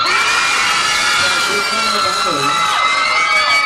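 A large crowd of fans screams and cheers continuously for a performer at Robinson Hatyai, high-pitched shrieks blending into a loud, steady roar that holds throughout.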